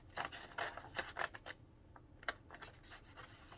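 Scissors snipping through craft paper, cutting out the inside after a hole is punched in the center; a string of quick, faint, close crisp snips in uneven bursts, with a quieter gap midway.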